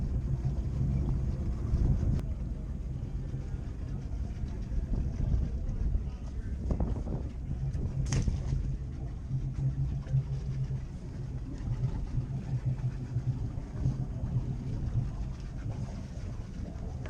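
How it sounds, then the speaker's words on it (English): Marine engine on a cruising boat running steadily in gear on the starboard side, a low continuous drone under wind noise on the microphone, with faint voices now and then. "notice I put it in gear on the starboard engine"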